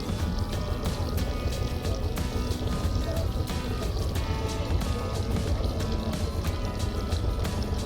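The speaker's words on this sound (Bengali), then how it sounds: "ঘুরছে বোটটা।" A boat turning on the water on a trip to a forest landing, giving a steady, loud broadband engine and water rush that runs throughout with no voices.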